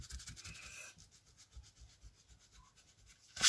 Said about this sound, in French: Je vais prendre ma gomme et je vais venir commencer à gommer.